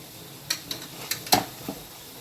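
A spoon stirs masala with turmeric and salt in a pan for a Kaal chicken recipe, several soft scraping clicks spaced through a quiet sizzle, close and fairly faint.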